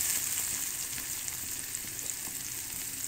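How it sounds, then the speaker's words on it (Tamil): Onion sizzling in hot oil in a pan, cooked with garlic and curry leaves for aval upma (flattened rice upma); a steady, close, moderately loud frying hiss with faint stirring, no talk. "வெங்காயம் நல்லா வணக்கிக்கோங்க."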